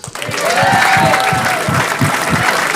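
A town hall crowd at a Strongsville GOP event breaks into loud applause and some cheering, dense clapping that swells quickly and stays strong for a few seconds, with a rhythmic thumping and voices mixed underneath.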